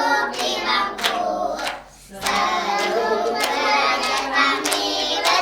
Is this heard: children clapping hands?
yes